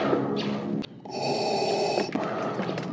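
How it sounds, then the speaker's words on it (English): Heavy breathing comes as loud, close snorting huffs and gasps, several rough breaths in and out over about three seconds. "Why are you breathing so hard?"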